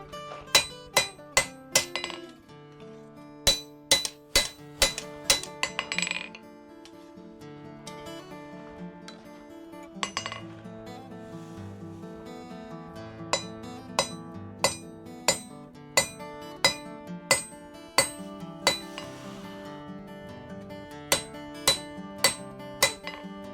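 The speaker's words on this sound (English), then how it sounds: "every single time that your hammer hits that piece of work" A hammer rings against hot steel as a bowie knife is hand forged, with sharp metallic strikes landing in quick, regular bursts and short pauses between them, close and clear with no talk.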